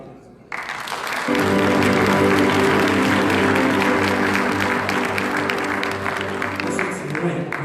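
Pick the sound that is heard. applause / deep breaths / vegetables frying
applause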